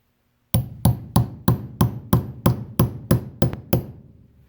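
Eleven sharp metallic hammer strikes on a punch driving a roll pin from a Phoenix HP22 pistol, in a steady, even rhythm, each ringing briefly before the next blow, close and loud.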